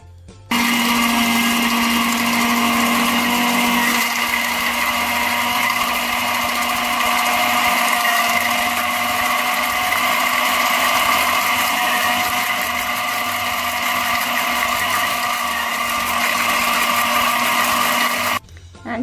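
A countertop blender runs continuously for gluten-free mayonnaise as oil is added gradually. Its loud, steady whirring motor hum holds for nearly twenty seconds before cutting off.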